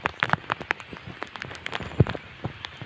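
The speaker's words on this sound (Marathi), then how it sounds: "पाऊस आला आहे" Rain falls on a surface nearby in Konkan farm fields as scattered, irregular drops and taps, fairly quiet, with a few sharper hits standing out.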